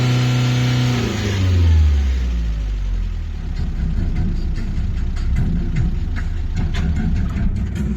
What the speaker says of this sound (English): As you can tell with the diesel roar.